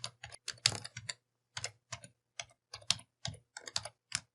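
Keys clatter on a computer keyboard as a database command is typed, in short irregular bursts of clicks with brief pauses between, close and crisp in a quiet room.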